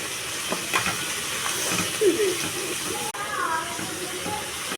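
Precooked broad beans and chana dal drop into a hot pan of fried ginger-garlic paste and sizzle with a steady hiss, as a voice speaks over the cooking.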